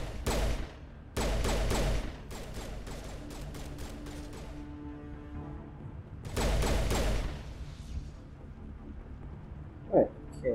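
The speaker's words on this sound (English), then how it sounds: "It's not spectacular against these things, but again, you're shooting at a tree." Gunfire rings out in the video game Mass Effect as a weapon is fired at a tree: two loud sustained automatic bursts framing a run of rapid individual shots, with a hum of game ambience between them.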